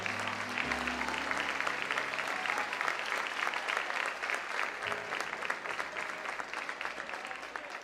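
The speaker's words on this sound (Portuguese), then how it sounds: "Se coloque em pé e aplauda ao Senhor" A church congregation applauds steadily and loudly throughout, dense clapping filling the space with a faint low organ or keyboard tone underneath.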